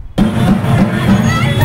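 Supporters celebrate at Rajkamal square in Amravati with a loud, close crowd din of cheering and babble that starts abruptly and stays steady throughout.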